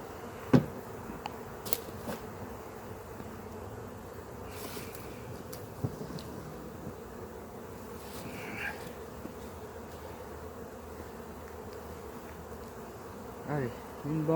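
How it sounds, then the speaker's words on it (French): A swarm of honey bees drones steadily at an open hive, a continuous buzzing hum close to the microphone with a few brief knocks and light wind noise. No one speaks. "Oh le bel essaim."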